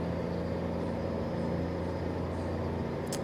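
Steady low engine drone of a custom Mack truck in a truck driving video game, a continuous rumble with road noise and no talking.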